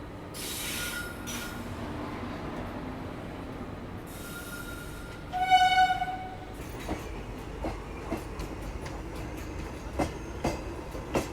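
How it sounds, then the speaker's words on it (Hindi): A passenger train passes near Gurgaon with rumbling wheels, a brief squeal and a horn-like tone, then rhythmic clickety-clack of the wheels over rail joints, heard close and without talk. "कोई तो पैसेंजर ट्रेन यहाँ पे निकल रही है गुड़गांव से"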